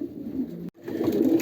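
Pigeons in a loft during pairing coo in low throaty bursts, broken by a brief gap before the cooing resumes close and steady.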